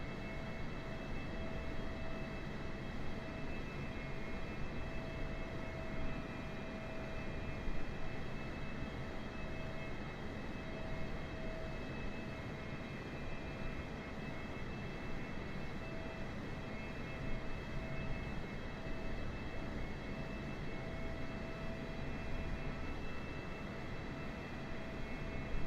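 Boeing 747 engines in Microsoft Flight Simulator 2020 drone steadily with a dense, loud roar and a faint high whine, unchanging for the whole stretch with no talking.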